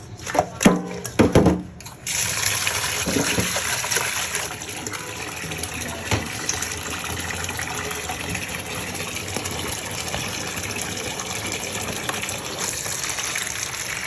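Salted koi fish are washed under a tap. After a few brief splashes, a steady gush of running water continues loud and close.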